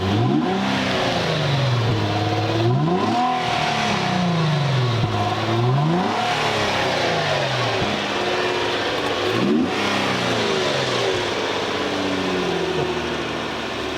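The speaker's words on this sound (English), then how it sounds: "Rev it up, Michael." A flood-damaged car's engine revs up and down repeatedly, rising and falling in pitch in long sweeps, loud and close with no talking.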